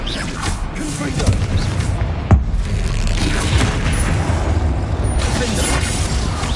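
A Confringo fire spell explosion in the Hogwarts Legacy video game, one sharp boom landing amid ongoing loud combat sounds and rumbling effects, with no speech over it.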